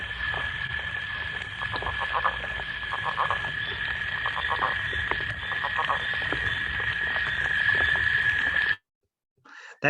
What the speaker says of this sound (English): there's actually 3 species of frog calling in that one